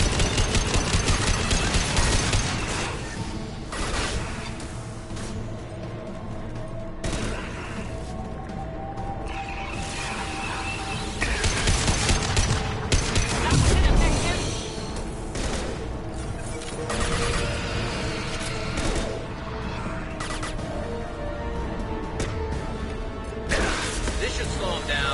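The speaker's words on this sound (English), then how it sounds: "Firing a high-impact shot." Dense, continuous gunfire and impacts in the Mass Effect 2 video game, loud and sustained across the whole stretch with repeated bursts and crashes layered over a busy combat soundscape.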